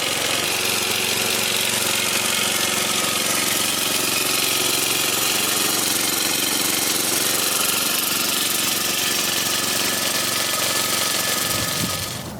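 A Kawasaki FJ180V engine on a Toro Turfmaster mower idles with a loud, steady, buzzing drone, close up and unchanging for the whole stretch, cutting out right at the end.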